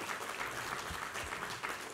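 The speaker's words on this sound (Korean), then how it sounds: "우리 하나님께 감사와 영광의 박수 올려드리겠습니다" A church congregation at a Korean Sunday worship service claps together in a soft, continuous wash of applause, heard at a moderate distance with no talking over it.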